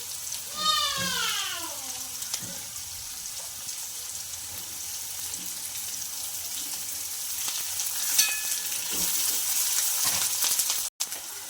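Chopped onion, crushed green chili and coriander fry in a pan with a constant soft sizzle, joined by occasional stirring scrapes and a brief squeaky whine near the start.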